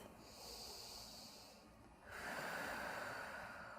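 Deep yoga breathing up close: a long, soft airy inhale, a short pause, then a stronger hissing exhale that holds steady to the end.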